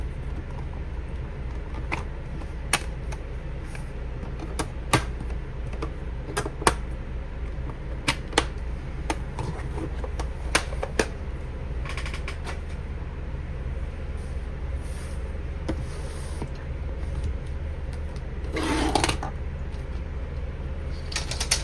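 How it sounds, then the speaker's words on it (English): A Fiskars expanding paper cutter slices through printed photos, giving a run of sharp, irregular clicks and ratcheting snaps over a steady low hum, close and fairly loud, with no voices. "I'm going to get out my cutter so we can be able to cut these"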